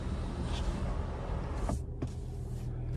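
The one-touch power sunshade of a 2024 Cadillac CT5-V closes with a quiet electric motor whir lasting under two seconds, then a soft click as it stops, inside a calm cabin.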